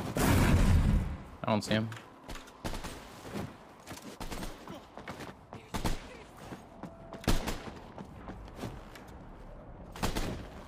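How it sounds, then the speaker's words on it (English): NPC gunfire in Vampire the Masquerade: Bloodhunt, scattered sharp shots and short bursts popping at irregular intervals, with a player speaking briefly between them. "NPCs are shooting at him."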